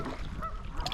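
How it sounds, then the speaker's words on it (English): Angry geese honking beside Lake Malone, Kentucky, with a short burst of harsh calls over steady outdoor background noise. "We also have some angry geese."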